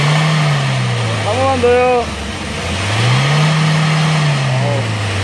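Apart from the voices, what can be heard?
Hyundai Porter 2 truck engine revving, accelerator pressed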